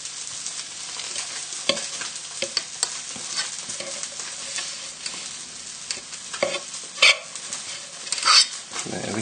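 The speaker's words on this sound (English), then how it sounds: "Again, so just crushing the potatoes together." Trout fries in a pan on high heat with a continuous crackling sizzle while potatoes are crushed nearby, with scattered scrapes, clinks of utensils and a couple of sharper knocks.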